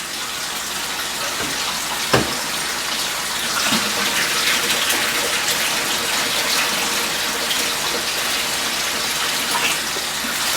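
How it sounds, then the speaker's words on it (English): Old, dirty tannin-stained aquarium water full of mulm and crud is poured back into a tank, a steady loud gushing splash lasting throughout with one sharp knock near the start. "I'm going to dump this old dirty water, including all the mulm and some of the crud that is on the bottom"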